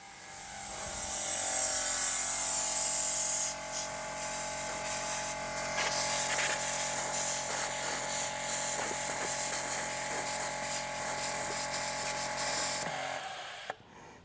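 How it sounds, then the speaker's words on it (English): An electric air compressor for a vehicle's air suspension runs steadily for about twelve seconds with a hissing airflow through the line, then cuts off near the end. "let's command the compressor on and let's try to stop that airflow"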